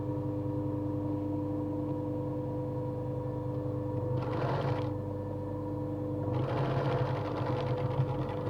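A domestic sewing machine stitches a lined fabric pouch, its steady motor hum running throughout, with two louder bursts of fast needle clatter as the stitching speeds up, close to the microphone.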